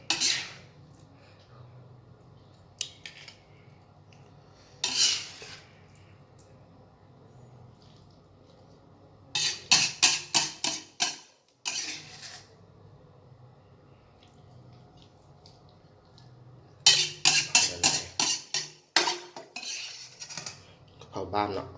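A metal spoon scrapes and clatters against a pan and plate as stir-fried holy basil with squid is scooped out, in close, sharp bursts of rapid scraping separated by quiet pauses, with no talking.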